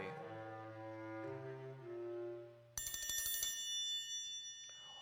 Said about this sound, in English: One day, the doorbell rang